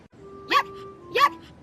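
A puppy in a children's story gives two sharp barks about half a second apart, close and clear, with a steady tone humming underneath.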